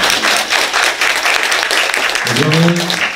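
A lecture audience claps for Professor Seo Gyun-ryeol after a long talk on nuclear power policy: dense, close, sustained applause, with a voice beginning to speak as it continues.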